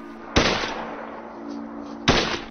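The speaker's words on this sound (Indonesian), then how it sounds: "Tau menembak semua polisi." Two sharp gunshots in a film scene, a loud crack at the start and another about two seconds later, each followed by a brief decaying tail over a low steady tone.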